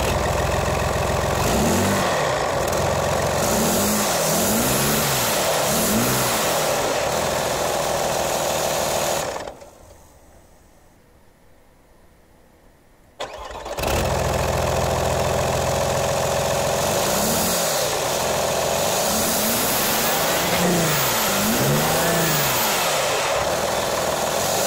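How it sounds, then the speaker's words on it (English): A 2.5 V6 TDI diesel engine in an Audi A4/A6, run with the exhaust removed, idles loud and raw with a rhythmic chugging throb. A few seconds of near silence break the sound before it resumes at the same level. "Let's start the car with absolutely no exhaust and see what it sounds like."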